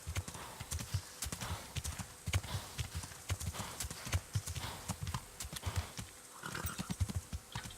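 Horse hooves clip-clopping in the video game Kingdom Come Deliverance, a steady, close rhythm of sharp hoofbeats at a brisk pace, with a brief soft snort near the end.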